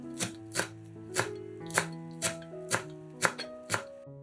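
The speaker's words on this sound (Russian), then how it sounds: "Пучок укропа мелко нарезаем ножом" A kitchen knife finely chops a bunch of dill on a board in about eight crisp, evenly spaced strokes, close and clear with no talking.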